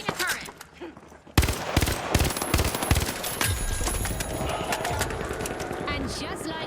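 An automated turret in The Finals opens fire with a sudden loud onset of rapid, sharp shots that continue as a dense, near barrage amid other game noise.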